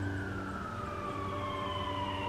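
A wailing siren in a song intro sweeps slowly downward in pitch, steady and continuous, over a low background rumble.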